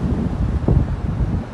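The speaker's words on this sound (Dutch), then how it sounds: "Er staat lekker veel wind ook." Strong wind roars and buffets the microphone on a beach in a steady low rumble with gusty surges, and no voices are heard.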